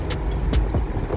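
A straight-piped Chevrolet Camaro ZL1 with muffler delete, cold air intake and aftermarket exhaust rumbles low and steady at close range, with a few brief sharper bursts, no talking.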